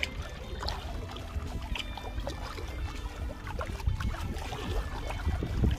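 Canoe paddling on a bay along a shoreline in the Everglades, with soft irregular splashes and water trickles from the paddle strokes over a low, steady ambient wash, near and fairly quiet.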